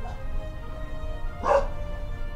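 A dog lets out a single bark at mid-distance over a steady low background hum, in a home where someone is playing a PC game.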